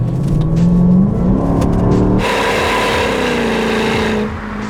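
A V8 Mercedes-AMG car engine runs loud and close, its pitch rising as it revs and accelerates, then settling into a steady rumbling drone.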